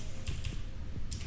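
Quick bursts of keystrokes on a computer keyboard, close and clear, with a few separate clicks over a short stretch as a search query is typed, no voices.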